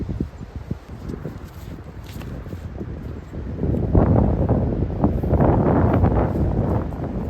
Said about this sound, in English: That wind is intense.